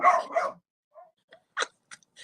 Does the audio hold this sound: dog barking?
yes